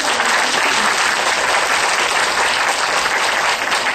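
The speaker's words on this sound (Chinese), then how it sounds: "首先我们先掌声来谢谢我们林市长。" Audience applause at an indoor public lecture event, a loud, dense, steady clapping from many people lasting about four seconds with no voice over it.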